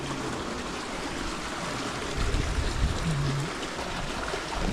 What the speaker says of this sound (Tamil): தண்ணி ரூம்குள்ளே போகுது.